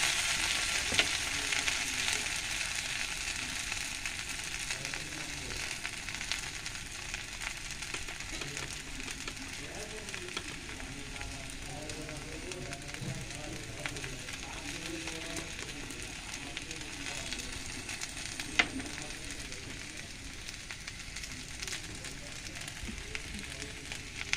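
Fish and spices sizzle steadily in a hot pan, a continuous close frying hiss with faint crackles running throughout, and a voice is faintly heard at moments.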